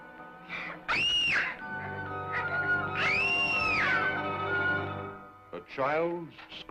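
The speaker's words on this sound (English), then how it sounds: "A child's scream in the middle of the night has shattered the quiet of the Harrington house." A child's scream pierces a quiet house at night: two long, loud, high wavering cries, rising and falling, over a steady low droning tone, with a shorter cry near the end.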